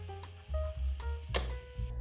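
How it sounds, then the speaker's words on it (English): Thinly sliced onion is swished and rinsed in water, giving wet squishing and sloshing bursts close by, with a sharper splash partway through and no talking. "I'm thinly slicing onion and rinsing it in water a few times"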